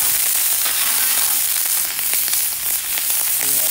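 Butter sizzling loudly and steadily on a griddle set up for pancakes, a dense continuous fry hiss close by with faint clicks and scrapes.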